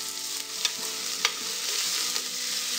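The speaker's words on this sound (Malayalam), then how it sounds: "ഇനി ഇതിലേക്ക് 1 കപ്പ് സവാള ചെറുതായി അരിഞ്ഞതാണ് ചേർത്ത് കൊടുക്കുക." Finely chopped onion sizzling in hot spiced oil for Punjabi chole, a dense continuous hiss with a few sharp stirring scrapes, close and alone.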